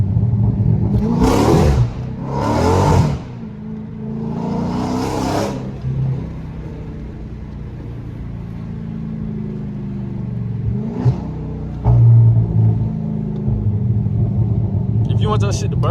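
A Dodge Scat Pack with a full exhaust rumbles low and steady at idle, with a few quick revs rising over it and someone talking at times.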